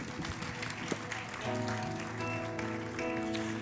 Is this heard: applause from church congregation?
yes